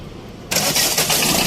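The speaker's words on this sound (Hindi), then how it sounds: "तो 1 सेल के अंदर गाड़ी स्टार्ट हो गई अपनी" After a brief quiet moment, a Ford Figo diesel engine abruptly cranks and catches on the first crank, settling into a loud, rough, rattling run with rhythmic pulses.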